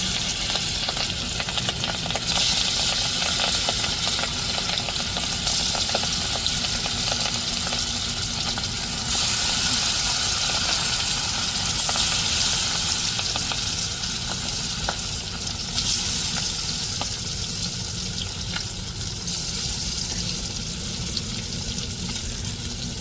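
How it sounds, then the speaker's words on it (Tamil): Several fish frying in hot oil in a pan, a loud, steady, dense sizzle and crackle that continues throughout with no talking. "நம்ம ஒவ்வொரு மீனாக எண்ணெயில் போட்டு பொறிச்சு எடுத்துருவோம்"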